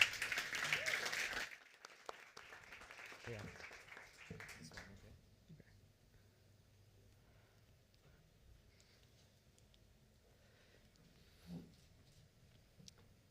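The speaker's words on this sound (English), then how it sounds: "please, a round of applause for Raiz for that." A short round of applause opens loudly, then quickly thins out and fades into near silence with a faint voice afterward.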